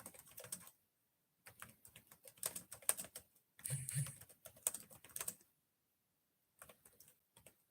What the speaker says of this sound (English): Another word I'm going to type into live because why not?